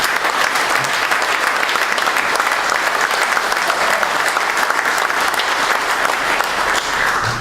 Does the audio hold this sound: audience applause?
yes